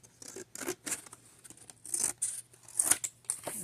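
Scissors snip through planner paper in a series of short, quiet cuts, some quick double snips with small pauses between, close up with no talking.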